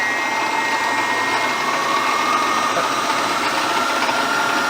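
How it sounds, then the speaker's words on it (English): The variable frequency drive on a 1987 Millport 1630 CNC knee mill spins up a hardened chrome spindle with a steady electrical whine and motor hum, heard close and continuous with no talking. "There's the variable frequency drive powering up."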